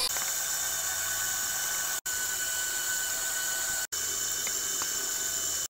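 KitchenAid stand mixer with its grinder attachment mincing beef, a steady, close motor whir with a brief cut or two in the sound, no voices.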